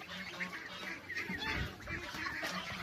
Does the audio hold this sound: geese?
yes